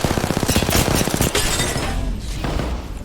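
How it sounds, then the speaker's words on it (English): Rapid enemy gunfire in Apex Legends, a loud burst of repeated shots in fast rhythm with impacts, trailing off into game noise. "He just put 15 shots into the freaking the wall."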